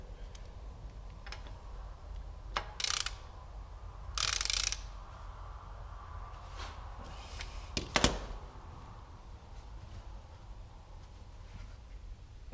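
Wrench tightening the rear wheel bearing nut on a Volkswagen Golf, a few sharp metallic clicks and short ratcheting bursts spaced apart over a low background hum, close by, no talk.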